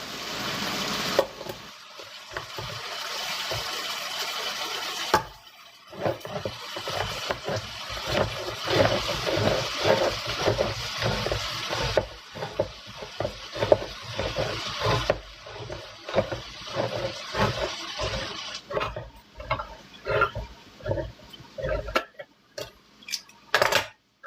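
Water runs and splashes around a tin can being rinsed at a sink, with clattering metal knocks and scraping, broken into irregular bursts and a short pause near the start.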